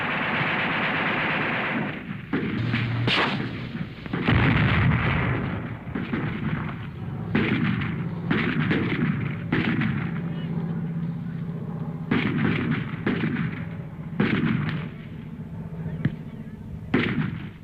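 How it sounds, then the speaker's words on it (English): Vietnam War combat footage with repeated bursts of gunfire and heavy blasts, loud and dense over a rumbling battlefield background, with intermittent voices. "The Viet Cong are plowing the field with bullets."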